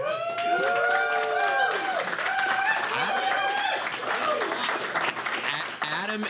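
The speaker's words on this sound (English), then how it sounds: "can we all give Adam a round of applause?" A meetup audience in New York City applauds steadily for several seconds, with shouted cheers and whoops rising above the clapping and voices mixed through the crowd.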